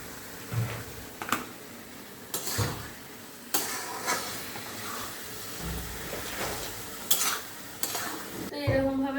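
Mutton keema sautés in a pot with salt, turmeric and chili, a spoon scraping and stirring in repeated bursts over a steady low sizzle, with occasional sharp clanks against the metal.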